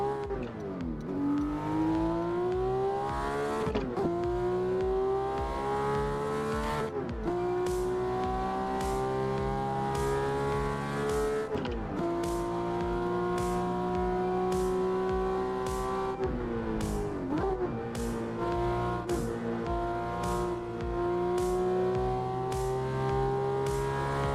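Simulated car engine from the PC racing game Assetto Corsa, revving hard through repeated rising gear pulls with sharp shift breaks, loud and continuous throughout.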